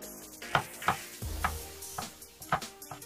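Chopped capsicum of mixed colours is tossed together in a bowl, giving a soft rustling shuffle broken by about half a dozen quick scraping strokes, close and quiet, with no voices.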